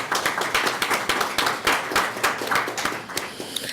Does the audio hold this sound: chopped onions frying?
no